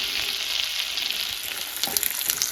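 Buttered pasta with lots of pepper sizzles steadily in a pan, a continuous close frying hiss with small crackles and a few brief stirring scrapes near the end.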